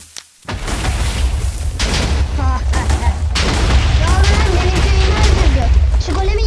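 Loud, booming TNT blasts from a video game rumble one after another, overlapping into a continuous roar of explosions with crackling debris.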